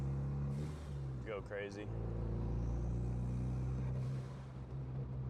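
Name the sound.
2014 Ford Focus ST driving on the highway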